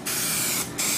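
Filler primer sprayed from an aerosol onto a car bumper: a loud, close, steady hiss in two bursts, with a short pause between them.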